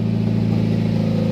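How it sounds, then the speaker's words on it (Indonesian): A Mazda Vantrend engine runs close by with a deep, throaty racing exhaust rumble, steady and loud over a short stretch. "Knalpotnya racing ya."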